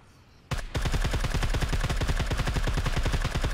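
SCAR rifle fire in a video game: a loud, sustained rapid automatic burst of tightly spaced shots, close and continuous after a sudden start.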